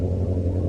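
Deep, steady roaring engine note of a Kawasaki Z1000 motorcycle, loud and close, holding a constant low rumble for under a second.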